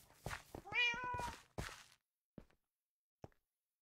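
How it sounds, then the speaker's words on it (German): A cat meows in the Minecraft video game, giving a drawn-out call followed by a couple of brief, faint chirps against otherwise silent background. "Das war meine Katze."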